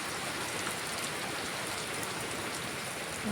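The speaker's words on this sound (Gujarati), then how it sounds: "ચાલુ થઈ ગયો છે વરસાદ" Steady, dense rain falls outside, a continuous close hiss of drops pattering on surfaces with no voices over it.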